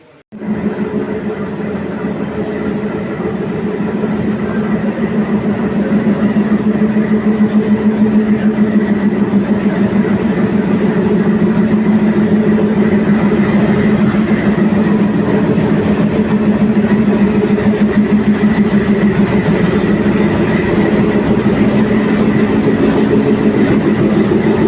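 The Tebhaga Express, running with LHB coaches, gives a loud, steady rolling rumble with a continuous rhythmic rattle of wheels on rails, close and unbroken for the whole stretch, with no voices.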